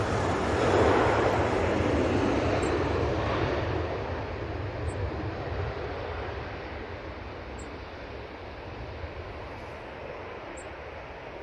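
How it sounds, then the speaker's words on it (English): A Jet2 airliner starting its takeoff roll at Manchester Airport: a steady, broad engine roar, loudest at first and then easing slightly while holding, heard from a distance with no talk. "Jet 2 on the roll."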